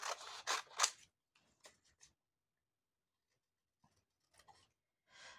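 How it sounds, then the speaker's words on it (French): Scissors cut through paper for a vintage-themed ATC card, with a few quick crisp snips close up at the start, then sparse soft rustles and another brief cut at the end amid near silence. "là, je vais couper."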